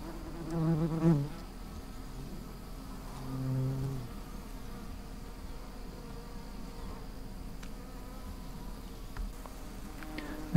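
A faint, steady honeybee buzz hums throughout around sugar syrup feeders, with a couple of louder buzzing passes near the start.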